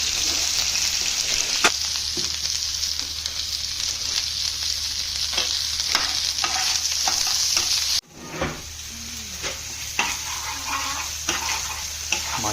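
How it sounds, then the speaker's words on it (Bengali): Pabda fish fry in hot oil in a home kitchen, with a steady loud sizzle and crackle that carries on throughout and a few sharp spatters and stirring clicks, and no one talks. "এখন মাছ ভাজা হচ্ছে চচ্চড়িয়ে পাবদা মাছ।"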